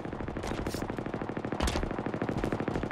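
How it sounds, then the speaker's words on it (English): Rapid, continuous turret gunfire in a video game rattles in a dense stream of shots, loud and close, with a few sharper bursts standing out over the steady fire. "I'm getting shot at by a turret."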